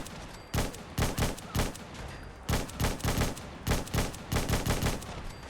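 HK G28 rifle fire in Fallout 4, about a dozen loud sharp shots in uneven clusters with short pauses between groups, close and dry against a quiet background.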